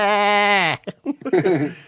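A person imitates a goat's bleat with a long, nasal, wavering cry, followed by a short burst of talking.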